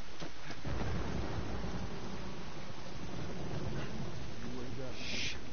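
Rain and rolling thunder in The Last of Us, a steady broadband wash of rainfall with low rumbles throughout, while a voice speaks over it and a brief brighter burst comes near the end.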